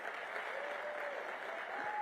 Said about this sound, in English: Let's give Anita and Reverend Hagler a big round of applause.